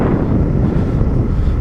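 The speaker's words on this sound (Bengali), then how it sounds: "বাতাস, রাতের বাতাস" Night wind buffets a motorcycle rider's microphone in a steady, loud, low roar with no break and no talk.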